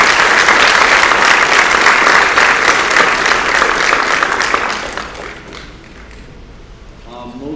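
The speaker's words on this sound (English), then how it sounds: "So round of applause for Tim," Loud, dense applause from an auditorium crowd at a school athletic awards event, sustained for about five seconds before dropping to lighter scattered clapping.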